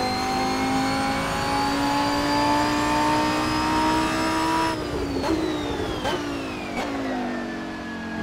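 A racing video game car's engine revs hard through the gears, rising in a steady sustained whine before shifts drop the pitch and it climbs again, loud and continuous, with no talk.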